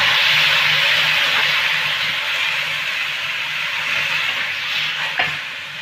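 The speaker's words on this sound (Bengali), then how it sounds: "হালকা ভেজে নিয়ে এবার আমি জল দেব।" Water poured into a hot frying pan for a ridge gourd curry, giving a loud, steady hiss that holds for several seconds and eases slightly, with a single knock near the end.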